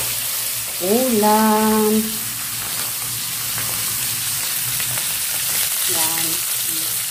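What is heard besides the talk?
cooking food frying in hot oil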